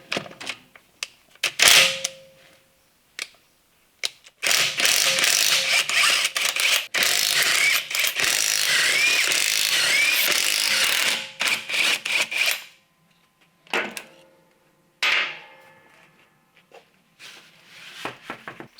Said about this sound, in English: I better get these wheels off first